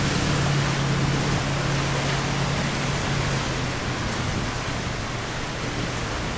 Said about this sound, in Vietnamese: anh này nhỏ mà trang bị động cơ hơi bị bự rồi, đạp quá mạnh.